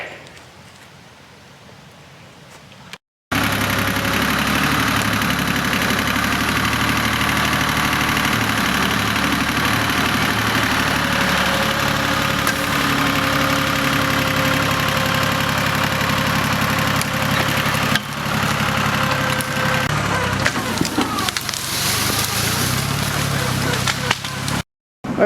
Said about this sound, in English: So let me get on the tractor and we'll pull this one up.